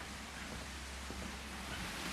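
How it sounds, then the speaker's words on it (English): Water flowing near a wooden bridge in a botanical garden in the heritage town of Jericó, Antioquia: a steady, soft broadband rush, faint and continuous, with no voices. "I love the sound of water."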